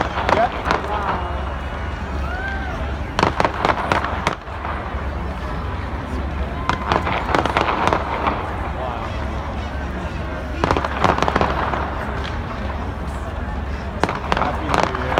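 New Year fireworks at Nathan Phillips Square in Toronto, including a spinning wheel display, burst from a distance in clustered volleys of cracks and booms over crowd noise, with people talking throughout.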